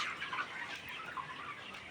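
72-day-old chickens cluck softly and steadily in a continuous murmur, with no voices, sounding like a flock close by.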